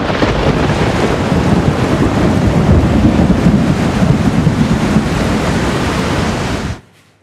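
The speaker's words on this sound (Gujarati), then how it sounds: "વહેલી સવારથી ધોધમાર વરસાદ ખાબકતા" Heavy early-morning downpour over Surat city, a dense, steady roar of rain that stays loud and unbroken for almost seven seconds before cutting off abruptly.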